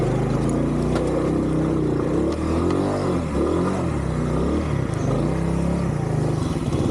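Honda CD70 motorcycle climbing Gorakh Hill, its small engine straining and revving loudly and continuously up close, with pitch rising and falling as the throttle works against the slope.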